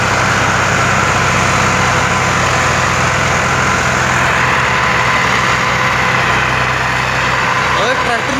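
Massey Ferguson 260 tractor engine labouring while pulling a loaded sugarcane trolley, a steady loud diesel drone that persists throughout, with voices talking over it.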